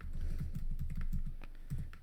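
Typing on a computer keyboard during keyword research, a quick irregular run of soft close clicks and taps that pauses briefly and then resumes, with no talking.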